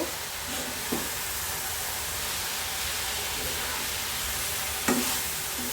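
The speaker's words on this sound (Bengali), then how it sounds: "এগুলোকে নেড়ে চেড়ে মিশিয়ে দিব" Banana blossom fries in a pan with chopped dried chili and coriander leaves while a spoon stirs it, giving a steady loud sizzle with two brief scraping strokes.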